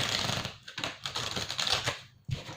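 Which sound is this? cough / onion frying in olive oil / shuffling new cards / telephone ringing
shuffling new cards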